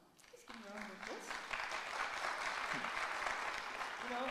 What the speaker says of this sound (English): Just give me a round of applause.